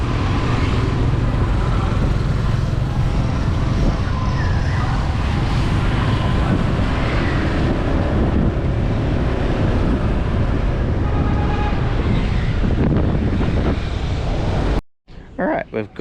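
Steady, loud wind buffeting over a motor scooter ride through the streets of Vung Tau, Vietnam, with traffic and engine rumble underneath, continuous for most of the clip before a sudden cut near the end.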